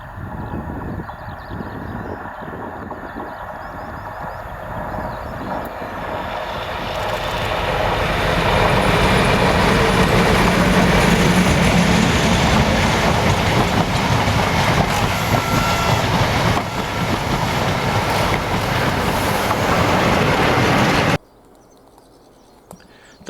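Class 56 diesel locomotive 56051 Survival, with class 47 47712 Lady Diana Spencer, hauls a ScotRail coaching set out of Foley Park Tunnel on a heritage railway gala shuttle, its engine roar building and holding loud before cutting off abruptly.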